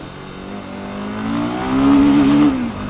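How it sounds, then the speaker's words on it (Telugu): A Royal Enfield Himalayan 450 motorcycle under way, its exhaust note building from a steady drone into a louder rising rev near the end, then easing off, with no talking over it. "ఎగ్జాస్ట్ నోట్ అయితే చాలా నచ్చింది నాకు"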